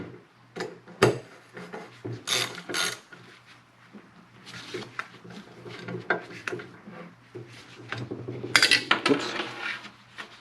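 Small metal tools and screws clicking and clinking while a ratchet tightens screws on an extended rail for an FN SCAR 17S rifle, with irregular close taps and rattles spread throughout.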